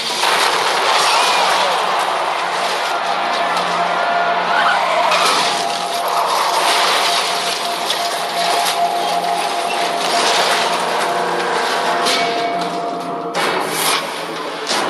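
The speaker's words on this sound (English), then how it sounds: "his back wheel is clipped, sending him grinding down a wall" A race car skids and grinds along a trackside wall after its back wheel is clipped in a crash, producing a loud, continuous broadband scraping roar that holds steady for the full stretch with no talk.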